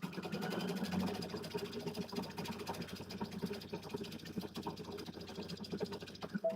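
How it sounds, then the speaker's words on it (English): A sewing machine stitches across a zipper with a steady, quiet mechanical whirring and rapid needle clatter, running continuously and fairly faint before stopping near the end. "Let's stitch all the way across here."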